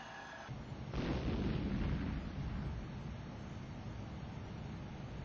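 Saudia Cargo jet engines spooling up to takeoff thrust, a broad steady roar that swells within the first second and then holds, heard from inside at moderate level.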